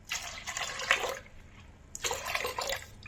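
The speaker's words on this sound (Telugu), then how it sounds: "ఇదిగో సరిపడా వాటర్ పోస్తున్నాను" Water poured into washed dal for methi kura pappu, two separate splashing pours with a short pause between them.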